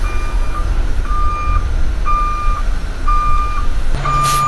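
A large flatbed truck reverses into a construction site gate, its backup alarm sounding four or five evenly spaced beeps about a second apart over a low engine rumble, with a brief hiss near the end.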